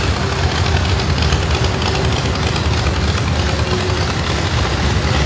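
A 1950 Caravan tractor engine runs loud and steady at a county power show parade, a continuous rumbling drone with no breaks and no voices over it.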